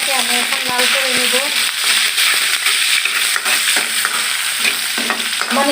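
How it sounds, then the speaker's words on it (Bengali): Chopped onion and green chilies fry in hot oil for egg vegetable noodles, a loud close sizzle running throughout, with clattering stirs and scrapes near the start and end. "চুলাতে তেল গরম করে এখন আমি দিয়ে দিলাম পেঁয়াজ কুচি, দিয়ে দিলাম কাঁচামরিচ কুচি।"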